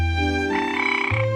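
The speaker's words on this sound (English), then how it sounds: "F for frog." A frog croaks once in a long, loud, close call with a strong pitched, buzzy tone that drops near the end, heard alone.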